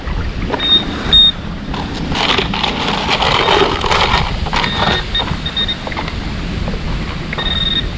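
A metal detector gives short, high-pitched electronic beeps intermittently over low rumbling and scraping noise.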